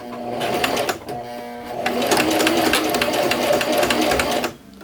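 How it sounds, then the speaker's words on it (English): A sewing machine runs steadily while edge stitching along a folded button placket on a shift dress, its needle whirring in a fast, even rhythm with a short pause midway, then continuing close and loud. "now we can begin edge stitching all along here"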